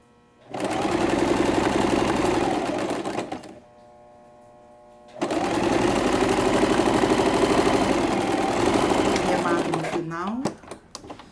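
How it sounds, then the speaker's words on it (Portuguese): An electric sewing machine stitches fabric edge to edge in two long, loud, even runs separated by a brief pause, heard up close and ending with a short burst of mechanical clicks, while a voice speaks over it. "Esse aqui a gente vai filmar costurando"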